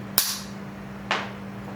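Two sharp, loud cap-gun-like snaps from a lightweight Colt Night Defender revolver's firing pin, dry-fired with a pencil in the barrel, spaced about a second apart over a steady background hum, close to the microphone with no talk.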